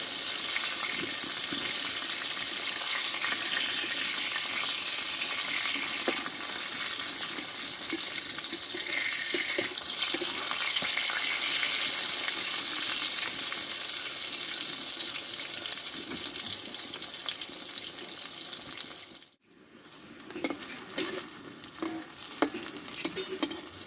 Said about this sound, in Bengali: আমি ভেজে নিয়েছি আমি উল্টিয়ে দেবো